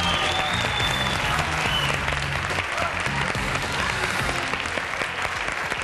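A studio audience on a television game show applauds, a loud continuous wall of clapping with crowd noise and faint music underneath.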